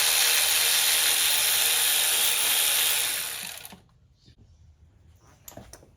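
A ratchet wrench loosening bolts on a 2004 Toyota RAV4 engine during spark plug work gives a loud, close, continuous whirring rasp for about four seconds, then cuts off, leaving a few faint clicks and taps.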